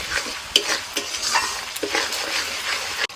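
Masala being stirred with sour yogurt in a pan for a vegetarian potol dolma curry: a steady close sizzle with repeated scraping strokes of a spoon against the pan, and no talking.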